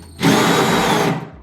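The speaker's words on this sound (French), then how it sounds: "On va déjà commencer à la scie cloche." A loud power-tool whir starts abruptly and holds steady for about a second, the high grinding drone of a hole saw biting into material during Wedi waterproof bathroom wall board installation.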